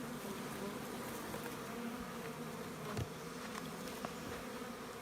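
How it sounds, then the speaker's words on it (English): Honey bees buzz steadily around a nuc box hive during early spring in a cold Canadian setting, a dense continuous drone up close with a few faint knocks and no talk. "Another box of bees."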